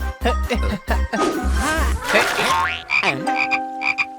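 Cartoon frog croaking down a well in a children's animated comedy, a run of low rhythmic croaks followed by squeaky cartoon effects and bright tinkling tones, loud and close.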